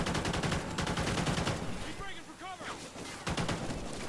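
Call of Duty: Ghosts gunfire rattles in rapid automatic bursts, loud and close, with a brief lull of other game sounds in the middle before the shooting resumes.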